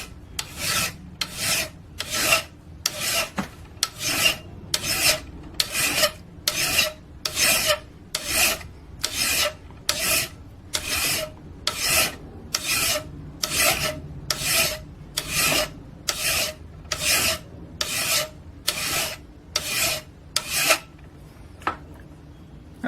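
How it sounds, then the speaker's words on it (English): A file rasping along the edge of a Morakniv Craftline 511 high carbon steel knife held in a vise, about twenty-five evenly spaced scraping strokes in steady rhythm, close and clear with no talk. "it just took a couple of strokes with the file"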